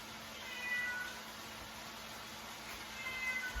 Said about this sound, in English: don't mind my cat, he's meowing away